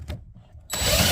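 A cordless drill spins up a uni-bit step drill bit in a car door panel, whirring loudly and steadily after a brief quieter moment of handling.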